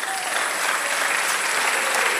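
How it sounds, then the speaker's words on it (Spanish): A church congregation claps loudly in steady, dense applause during a prophetic sermon, heard up close and unbroken throughout the short burst. "Y denle un aplauso al Señor."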